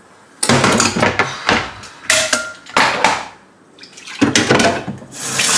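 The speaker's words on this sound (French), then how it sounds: "je remets de l'eau, je vais faire ma plonge" Water runs from a kitchen tap into a sink for washing dishes, a loud rushing stream in several long bursts with short quieter breaks between them, no talking.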